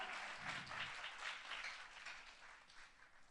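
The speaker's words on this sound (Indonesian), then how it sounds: "tepuk tangannya boleh lebih dahsyat lagi buat Yesus Tuhan kita" A church congregation applauds for Jesus, with dense, sustained clapping heard at moderate distance and no talk over it.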